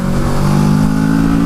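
A 2017 Kawasaki Z650 motorcycle's 650 cc engine runs loud and close with a steady, throaty drone that holds level throughout, with no speech.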